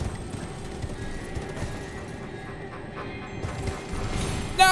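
Hoofbeats of a mountain goat steed carrying a rider in the video game Elden Ring, a steady clip-clop over a dense game soundscape, with a brief louder burst near the end.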